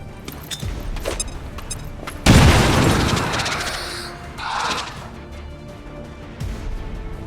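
A grenade goes off in a combat video game, a sudden loud boom with a long rumbling tail that fades over a couple of seconds amid scattered in-game clatter.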